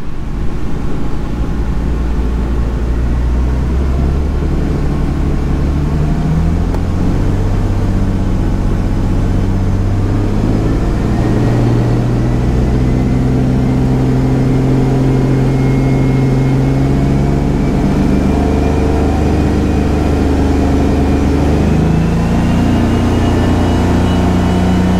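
BMW E46 with an AEM 340 L/h E85 fuel pump and pressure regulator, engine running close and loud for the whole stretch, with changing pitch as the revs rise and fall and steady harmonic drone throughout.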